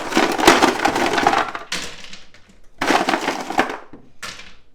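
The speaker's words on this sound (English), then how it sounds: "Put some ice cubes over the top." Ice cubes tumble loudly over mussels in a mesh strainer, two clattering pours with short pauses between, the cubes rattling and cracking close by with no voices.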